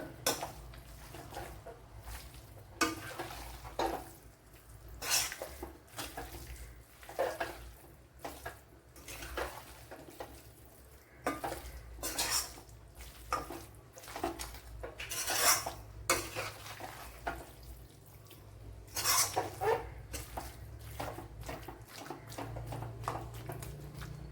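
A spoon stirs chicken curry masala in oil in a pan, scraping and clattering against the metal in irregular bursts over a low frying sizzle, close and continuous, with no talking.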